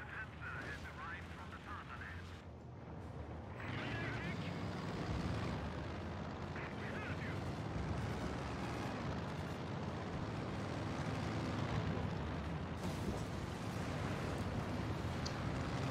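An aircraft goes down in Company of Heroes 2 amid battle noise: engine drone and scattered gunfire and artillery thuds beneath game music, with someone talking over it.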